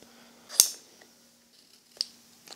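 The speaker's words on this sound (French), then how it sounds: "Le patch, comme il est un petit peu grand, va falloir, avec des ciseaux, le couper à la bonne taille." Scissors cut an oversized fabric repair patch down to size for a torn down jacket. Two crisp, quiet snips stand apart, one early and one later, in a hushed indoor setting.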